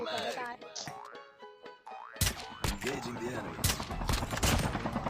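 Sniper rifle fire in the mobile shooter Call of Duty Mobile, with sharp, loud gun blasts and impacts bursting out in quick succession after a calmer stretch, mixed with game effects and someone talking over the action.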